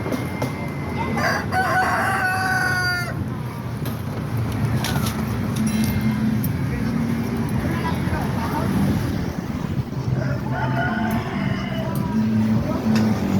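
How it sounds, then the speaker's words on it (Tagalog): A rooster crows loudly and close, with chickens clucking and a constant farmyard bustle. People talk underneath. "manok"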